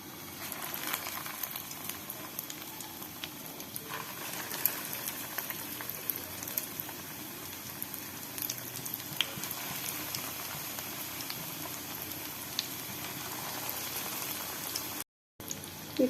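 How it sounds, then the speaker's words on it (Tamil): Fish cutlets fry in hot oil with a steady, fine crackling hiss throughout, light popping spatters scattered over it, and a short silent gap near the end; no talking. "இப்போ நம்ம எண்ணெயில் போட்டுக்கலாம்."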